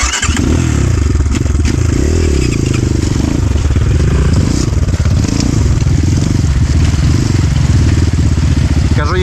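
A Rottor F1 enduro motorcycle roars loudly and continuously up close while being ridden, its engine rumbling and surging with throttle changes, along with some clattering.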